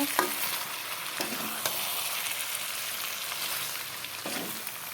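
Potatoes stirred together with chicken frying in a pan: a steady close sizzle with a few scraping spatula strokes against the metal, no voices.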